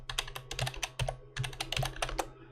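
Typing a login on a computer keyboard, a quick close run of crisp key clicks in two short bursts with no talk.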